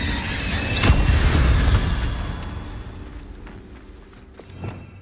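A fiery Incendio spell bursts loudly in the Hogwarts Legacy fantasy game, a booming whoosh near the start that swells for a second or two, fades into a rumbling tail, and ends with a smaller pop.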